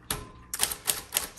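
Typing clicks from a 1938 Corona Sterling manual typewriter, a quick run of sharp keystrokes in irregular bursts, close and fairly loud with no voices.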